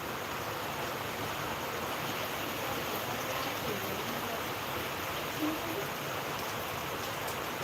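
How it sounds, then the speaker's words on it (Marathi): A heavy morning downpour in Lohgaon keeps up a constant broadband rushing hiss of falling water, unbroken and moderately loud, while no distinct speech stands out. "तर मित्रांनो आज खतरनाक पाऊस चालू"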